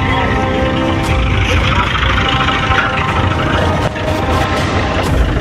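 A tractor engine idles loudly and steadily in a village while it is made ready for a thresher, holding one continuous rumble with a brief dip partway through.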